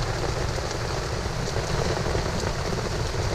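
Heavy rain falls on a camping tent at a resort campsite, making a dense, continuous hiss and patter that stays steady and loud throughout with no pauses.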